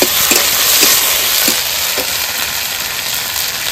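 Spice masala of dried red chillies, cardamom, cinnamon, cloves, chopped onion and ginger-garlic paste fries in a pan, giving a loud, dense sizzle with a few soft stirring taps early on.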